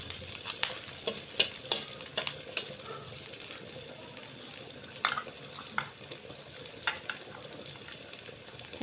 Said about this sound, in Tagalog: lagay po natin yung ating onions o yung ating sibuyas